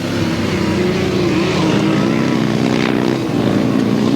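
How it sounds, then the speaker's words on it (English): A 1000cc V-twin motorcycle engine roars loudly and continuously nearby at a grasstrack race, its pitch rising and falling as it revs hard at speed. "Just listen to that Golden V twin 1000cc machine revving."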